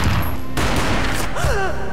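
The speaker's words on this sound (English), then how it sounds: "A gunshot boomed and she fell down in slow motion." A gunshot booms in the Max Payne video game, followed by a sharp burst and a muffled thud amid a dense, noisy game mix.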